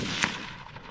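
A single sharp gunshot from an 80-year-old gun cracks out once outdoors, then trails off into a low, fading rumble with no talking.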